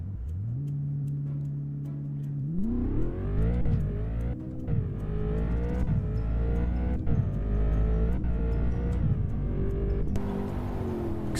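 In a Roblox driving game, a car's engine idles and then revs up through rising gear-like sweeps, a steady loud engine tone with no talk.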